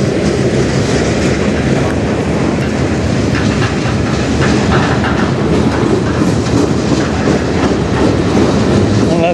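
A CN freight train pulled by four locomotives rolls past on the rails in a loud, steady roar, with wheels clicking rhythmically over rail joints throughout and no break in the noise.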